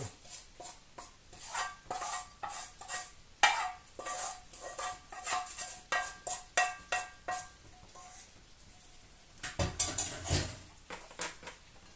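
Kulish, a thick porridge, is stirred in a pot with a spoon, giving a run of irregular soft scrapes, knocks and wet squelches, close and fairly quiet, with no talk.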